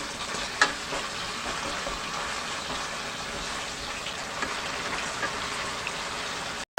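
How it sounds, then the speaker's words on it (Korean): Chunjang black bean paste fries slowly in oil over low heat, giving a soft, even sizzle with scattered light pops throughout. "자, 불은 약하게 해서 춘장을 천천히 볶아줍니다."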